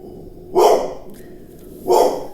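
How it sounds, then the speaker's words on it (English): A pit bull barks twice at a delivery person passing outside, two loud separate bursts about a second apart, alone with no talk over them. "Oh, there's the dog."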